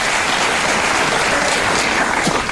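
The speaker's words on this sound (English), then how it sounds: "immediately when that crowd started clapping" A crowd claps loudly and continuously, a dense, close wash of many hands applauding with no pauses through the whole stretch.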